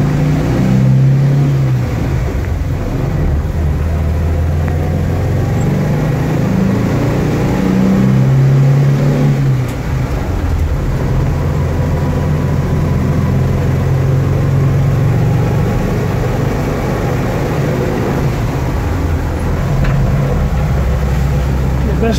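A 1971 VW Type II bus engine pulls in first gear, a steady low air-cooled drone that rises and falls with revs, close and continuous from start to finish.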